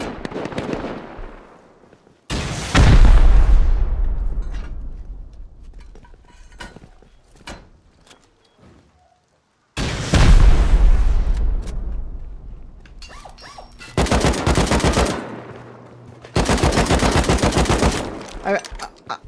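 Gunfire and explosions from the video game Rust come in loud broadband bursts: a heavy blast near 2.5 s, another near 10 s, then sharp volleys of shooting, with quieter decaying rumble and clatter between them.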